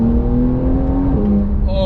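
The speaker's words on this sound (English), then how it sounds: "this is definitely much more noticeable when you open up the exhaust" A 2020 Porsche 911 Carrera 4S (992) with its sport exhaust open revs loudly, a steady close engine drone that dips in pitch near the end.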